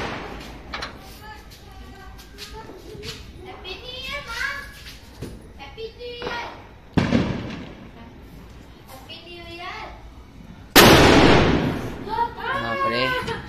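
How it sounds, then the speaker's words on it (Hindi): A sharp, loud bang from a Top Tiger firecracker bursts out near the end on New Year's Eve, following a smaller pop earlier, while children chatter and shout throughout. "चलो टॉप टाइगर फोड़ते हैं,"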